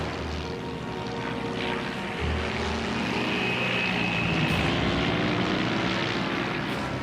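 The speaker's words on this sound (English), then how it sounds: "He opens the throttle, a life or death attempt to level the plane." A Dornier propeller plane engine at full throttle gives a loud, continuous droning roar with a steady propeller buzz, close and sustained throughout.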